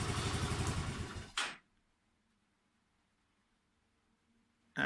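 Motorcycle engine running on PSU capacitors in place of a battery, loud and steady with a pulsing idle rhythm, then abruptly cut off and falling to near silence, with a faint click at the end.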